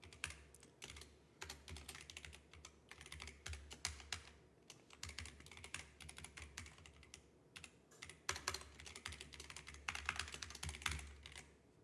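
Fast, uneven typing on a computer keyboard while coding on a microcomputer, a steady run of close, crisp key clicks in bursts with brief pauses, heard alone without talk.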